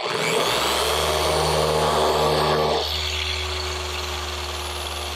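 A car paint polisher spins on its own to clean the pad, a loud steady electric whine that drops in pitch partway through as it slows to a lower hum.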